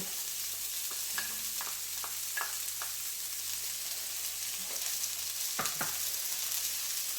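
Green and red onions saute in a pan with no oil, giving a soft, steady sizzle beneath scattered light taps and scrapes of a utensil, fairly quiet throughout.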